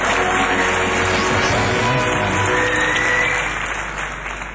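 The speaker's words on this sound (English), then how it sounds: "Let's give another round of applause for Wen Xiaoyu." Audience applause at the Miss World 2013 beauty pageant, a loud, dense, sustained clapping from a large crowd that tapers slightly at the end.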